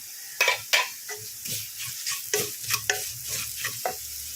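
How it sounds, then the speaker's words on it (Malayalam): Crushed chili, turmeric powder and curry leaves fry in hot oil in a pan, a steady soft sizzle broken by several sharp scrapes and clinks of a spoon stirring against the metal. "ഇപ്പോൾ 3 ടീസ്പൂൺ ഞാൻ ചതച്ച മുളക് ഇട്ടിട്ടുണ്ട്. ഇനി ഇതൊന്ന് വാട്ടട്ടെ കേട്ടോ."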